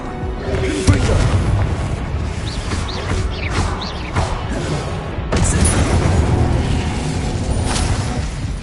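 Fiery Confringo spell blasts in Hogwarts Legacy, a series of loud booming explosions with crackling bursts over rumbling game ambience, the biggest impacts near the start and midway.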